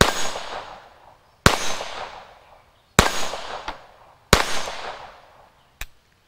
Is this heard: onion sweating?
no